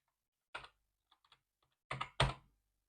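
Keys on a computer keyboard tapped to enter a product name while adding a collection to an online store, in short separate bursts of clicks with quiet gaps between them.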